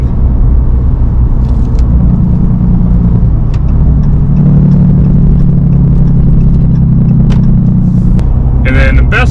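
Road noise from Atturo Trail Blade XT tires on a pickup truck at about 60 mph with the windows up, heard inside the cab as a loud steady rumble and drone, with a few light clicks near the end.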